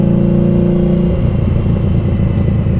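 A 2015 Harley-Davidson XG750 Street motorcycle out on a test ride, its V-twin engine loud and close with a steady harmonic drone that roughens and shifts pitch partway through as the throttle changes.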